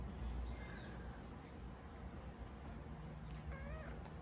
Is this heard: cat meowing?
yes